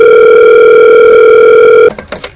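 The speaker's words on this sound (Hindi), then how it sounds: "फोन लगा जरा शूटर को" A loud, steady telephone dial tone on speakerphone hums for nearly two seconds in an animated comedy, then cuts off into a few clicks and muffled handling noises.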